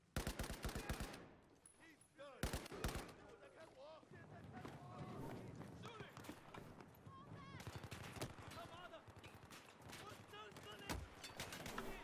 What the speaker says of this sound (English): Now he's shooting me in the back!